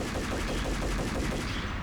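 Dense, sustained gunfire or explosive din in the Max Payne shooter, a loud continuous wash of noise with no pauses and no voices.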